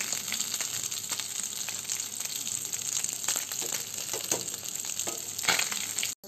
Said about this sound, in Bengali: এখন এই পাশের মতো অন্য পাশেও ভেজে নেব